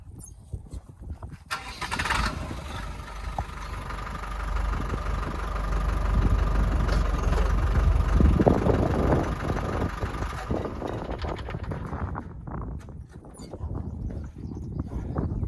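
Trident hobby-farm tractor engine running steadily while a single tyne ripper is lifted, a continuous close rumble with a rising whine that swells midway and eases off toward the end, with no talking.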